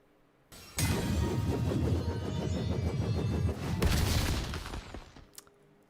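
The Heartsteel item proc in League of Legends lands as a sudden loud magical impact. A dense, crackling, rumbling burst follows, sustained for several seconds with a second swell before it fades out.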